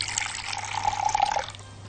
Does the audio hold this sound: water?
yes